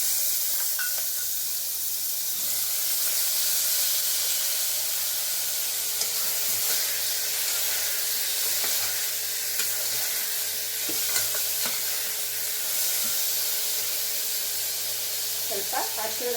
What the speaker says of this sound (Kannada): ನಾನು ಕಟ್ ಮಾಡಿ ಇಟ್ಕೊಂಡಿರುವಂಥ ಟೊಮೆಟೊನ ಹಾಕ್ತಾ ಇದ್ದೇನೆ